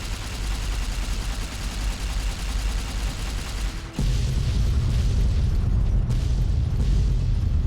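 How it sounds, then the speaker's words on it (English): A laser detonator is set off in Fallout New Vegas, a steady loud roar giving way at the four-second mark to a heavier, deeper rumbling blast that holds at full strength to the end. "And let's detonate this."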